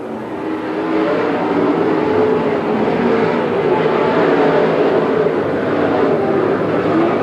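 Race cars circle Buckeye Speedway in a 1993 oval race, a steady engine roar holding at a distance for the whole stretch with no break or talk.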